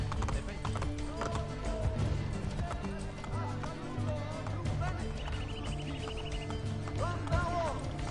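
Horse hooves clip-clop at a steady gallop in Assassin's Creed Brotherhood, mixed under game music and background voices, with a brief whinny.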